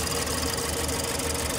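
Car engine idling after a flex plate repair that cured a knocking noise, running as a steady, even mid-pitched hum with no knock, close and alone for under two seconds.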